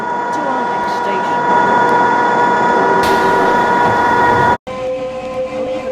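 A subway train is heard as a loud, steady rumble with a whining motor tone. A sharp shift in the noise comes partway through, then a brief cut, and the running noise of the train continues.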